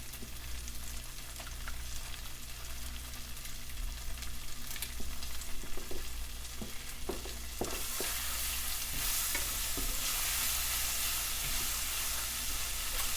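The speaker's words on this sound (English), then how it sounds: "The stock concentrate, you're gonna stir it in." Stock concentrate stirred into a shrimp and scallop scampi pan: a low, steady sizzle with scattered utensil scrapes, swelling into a brighter, hissing fry in the later half, with no talk.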